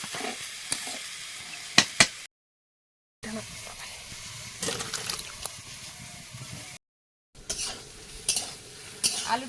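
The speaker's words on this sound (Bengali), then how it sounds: "আলুটা একদম লাল লাল করে ভাজা হয়ে গেছে" Potatoes fry in a pan for a potato dal, giving a close, crackly sizzle broken by stirring scrapes and clinks of utensil on metal, with short gaps of silence.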